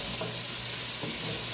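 Bacon sizzling steadily in a hot pan with a bright, continuous crackle, punctuated by a couple of scraping stirs as a mixture is added; close and loud, no voices.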